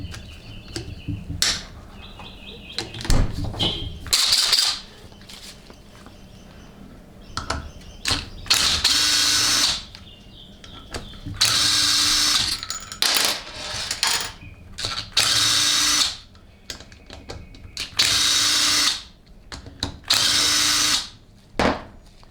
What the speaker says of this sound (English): Next, there are a series of 7 and 10mm bolts that have to be removed.